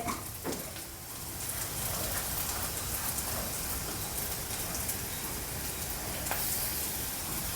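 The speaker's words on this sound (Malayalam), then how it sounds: "ഈ പച്ചമുളക് നമുക്ക് നല്ലോണം ഒന്ന് എണ്ണയിൽ കിടന്ന് ഇതാവണം മൂക്കണം" Green chillies fry in oil with a steady, dense crackling sizzle, like light rain, faint and continuous with an occasional sharper pop.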